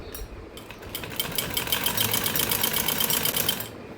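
Sewing machine stitching a seam on a salwar, a fast, even mechanical chatter running continuously and close up for about four seconds with no talking.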